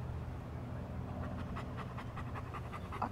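A dog pants close by in quick, rhythmic breaths that are steady and fairly soft over a low background hum, with no speech.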